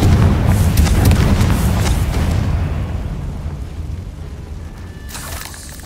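The Confringo fire spell in the video game Hogwarts Legacy bursts into a single heavy explosion, a loud deep boom with rumbling debris that slowly fades over several seconds.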